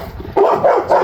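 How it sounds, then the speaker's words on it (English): A happy dog at home barks three times, loud and close, in a quick even rhythm with no talk. "The dog's super happy to see us."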